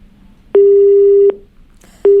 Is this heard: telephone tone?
yes